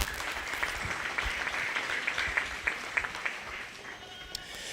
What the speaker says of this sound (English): they should be given a nice round of applause because there's some great quality out here.